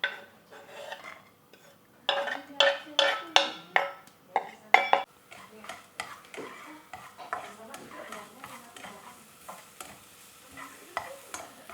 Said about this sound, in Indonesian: Kita tumis bawangnya sampai harum